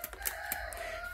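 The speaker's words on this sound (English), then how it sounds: "oh my god, a fucking rooster" A rooster crows in one drawn-out, sustained call, fairly clear against steady low background noise.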